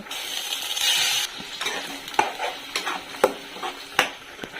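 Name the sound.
tomato onion paste frying in pan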